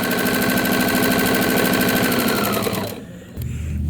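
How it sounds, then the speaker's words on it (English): Sewing machine stitching a quarter-inch seam down the short edge of quilt patchwork pieces, a steady fast close mechanical whir running for about three seconds before briefly stopping and starting again. "we're going to sew a 1/4 inch seam all the way down the short edge"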